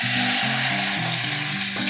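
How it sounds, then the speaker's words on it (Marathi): Garlic drops into hot oil in a home kitchen pan and crackles with a loud, continuous close sizzle, while a low steady hum runs underneath. "लसूण टाकते मी"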